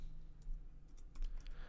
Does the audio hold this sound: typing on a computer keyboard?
yes